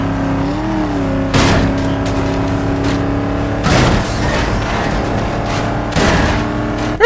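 Chevrolet Camaro SS engine in the Need for Speed Most Wanted racing game, held at full throttle with a steady droning tone, broken by three louder bursts of revving or gear shifts.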